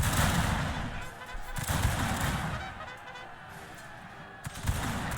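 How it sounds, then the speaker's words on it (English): Musket volleys and gunfire crackle in Shogun 2: Fall of the Samurai, a dense, rolling barrage of shots with sharp separate cracks near the end, fairly loud and continuous in the foreground. "the unit on the left open fires"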